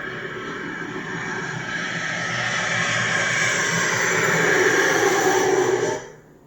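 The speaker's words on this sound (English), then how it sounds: "What was that? An airplane?" An airplane passing overhead, a loud sustained broadband roar that swells gradually and then cuts off abruptly near the end, with no talking.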